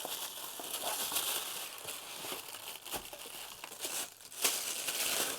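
Plastic wrapping and paper packaging crinkle and rustle close up as a Mamiya 6 MF medium-format camera is unwrapped, in irregular bursts of crumpling and tearing, without speech.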